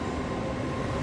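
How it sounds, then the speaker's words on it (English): Trains rumble at Reading train station as a dense, loud, steady low roar of rail noise fills the space, with no speech. "We're in Reading train station."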